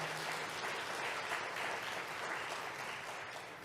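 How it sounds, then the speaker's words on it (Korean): Steady audience applause fills a church celebration service honoring an elderly couple's memoir and birthday, a dense continuous clapping that holds at even strength before easing slightly at the end, with no voices over it. "다시 한번 큰 감사의 박수를 올려주시기 바랍니다"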